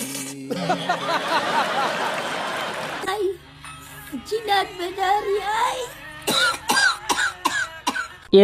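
Exaggerated, theatrical coughing fits mixed with throat clearing and some laughter, loud and close, starting with a long harsh burst and then coming in short repeated hacks with pauses between them.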